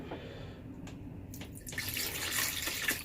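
Antifreeze poured into a camper toilet bowl, a steady splashing pour that swells louder and brighter partway through, close up with no voices.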